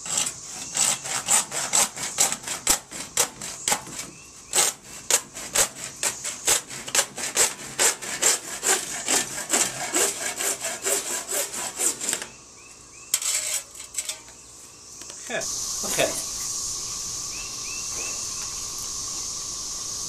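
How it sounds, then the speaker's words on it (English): A regular hand saw cuts through wooden posts in quick, steady back-and-forth strokes that run for a long stretch and then stop. Some scraping and handling of the wood follows, with nobody talking. "I'm just going to use a regular saw for this because it doesn't need to be anything pretty"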